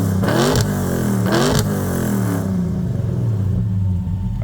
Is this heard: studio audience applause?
no